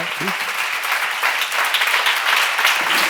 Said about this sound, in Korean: 박수 좀 세게 쳐봐.